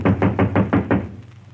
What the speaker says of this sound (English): Who's that knocking on the door, Mary?